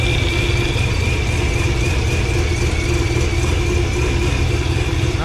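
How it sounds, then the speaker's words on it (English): A Corvette Z06 engine running steadily at idle, a continuous loud rumble with a thin supercharger whine held above it and no change in pitch. "really hear that supercharger whining"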